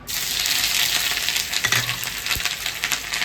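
Cumin, green chilli, pistachios, cashews and grated ginger fry in hot oil in a pan, giving a steady loud crackling sizzle with a few stirring scrapes toward the end.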